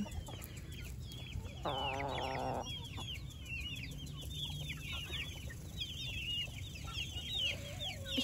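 Broody hens cluck in a fairly quiet coop, giving repeated low, throaty clucks and one drawn-out grumbling call, with scattered bird chirps behind and no speech.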